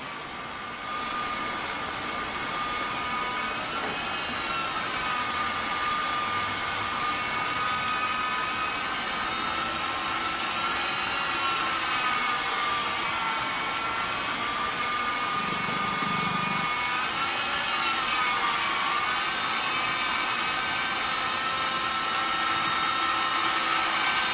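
A loud, steady video game helicopter engine whine with rotor noise drones throughout, its pitch shifting slightly as it maneuvers, with no voices.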